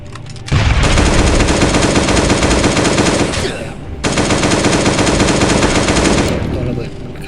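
A long-range gun in a video game fires two loud, sustained bursts of rapid automatic gunfire, separated by a brief lull, with a faint voice talking underneath.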